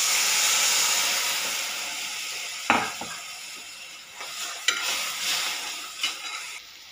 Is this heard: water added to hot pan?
yes